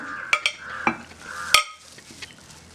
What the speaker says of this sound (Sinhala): දැන් මේක පොඩි වෙන්නේ නැති වෙන්න මේක කලවම් කරගන්න ඕනේ